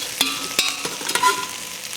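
Pasta being stirred with a spoon in a sizzling frying pan, with several sharp scraping clinks over a steady close frying hiss.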